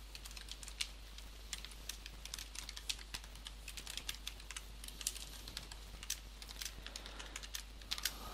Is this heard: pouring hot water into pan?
no